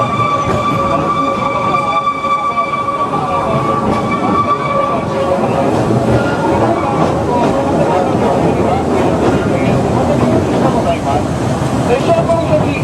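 An Oigawa Railway Ikawa line train runs along the Oi River, a loud continuous rumble of wheels and carriage with a spoken announcement over it.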